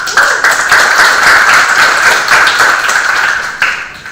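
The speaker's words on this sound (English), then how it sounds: "give him a huge round of applause" An audience at a university public debate applauds for a panelist, a dense, steady wash of clapping that holds loud and fades slightly near the end.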